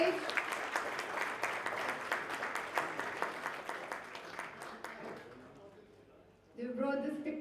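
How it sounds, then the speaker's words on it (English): Audience applause at a smartphone launch keynote, sustained clapping from a large crowd that gradually fades, then a voice starts speaking over it. "can we have huge round of applause for the stars on the stage?"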